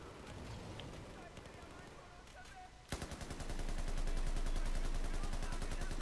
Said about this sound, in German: Ich habe ein groß genuges Magazin, um ein paar Sekunden durchzufeuern